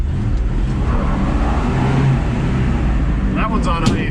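The engine of a 1968 Ford F100 revs loudly and close by while a tire spins on ice, giving a continuous roaring drone, with speech partly over it.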